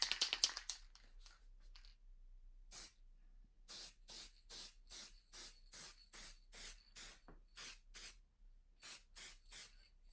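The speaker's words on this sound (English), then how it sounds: "Put in some spray." Aerosol spray paint hisses onto terrain baseplate tiles in about a dozen short, evenly spaced bursts after a few quick initial sprays, close and fairly loud with no talking.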